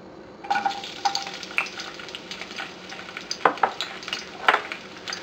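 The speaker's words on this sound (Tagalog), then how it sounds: "Once mainit na yung oil, pwede na natin ilagay dito yung garlic." Garlic fries in hot oil in a pan, a soft continuous sizzle broken by clinking stirs and scrapes of a utensil against the pan, close up with no voices.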